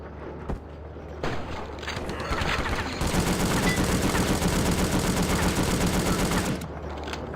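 Gunfire in the War Brokers shooter game, sporadic shots at first, then a sustained loud rattle of rapid automatic fire that stops abruptly near the end.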